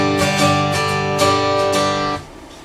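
A two-string guitar chord rings out in a beginner lesson, strummed several times in a loose rhythm on the two thickest strings, close and clear, then fades quickly to quiet.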